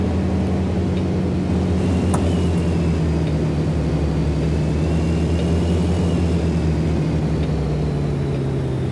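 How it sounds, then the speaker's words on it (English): A truck engine in American Truck Simulator drones steadily and loudly throughout, a continuous low hum with a faint whine above it and no clear break in the sound. "Time to start downshifting."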